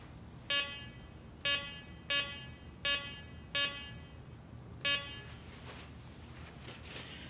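Garrett PD6500i walk-through metal detector gate sounding its alarm on a test knife, six short bright electronic tones at uneven intervals over a quiet room background.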